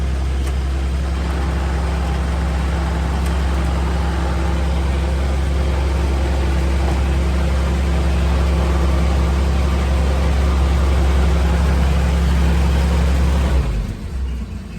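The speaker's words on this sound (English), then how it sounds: "Take the choke off, throttle her down. It's a nice cold idle there." A 1944 Dodge WC56 command car engine idles cold with the choke off, a steady low rumble with a faint rhythmic chug that holds loud and even, then cuts out near the end.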